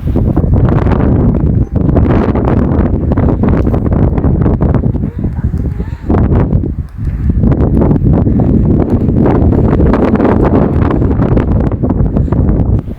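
Strong, steady wind buffets the microphone on a mountain trail lined with edelweiss, a loud continuous roar with gusty rumbling that dips briefly midway before surging back.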